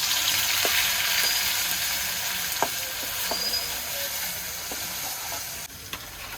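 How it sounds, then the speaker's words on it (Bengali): Onion and garlic paste fries for a spicy chicken dish, giving a loud, continuous, hissing sizzle close by, broken by occasional clicks from stirring and with no talking. "এবারে রান্না করব ঝাল চিকেন। তার জন্য দিয়ে দিচ্ছি পেঁয়াজ এবং রসুন বাটা।"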